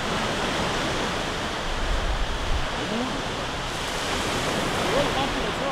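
Sea waves washing onto a beach on the Isle of Elba, a steady broadband surf wash with slight swells, heard throughout with faint voices in the background.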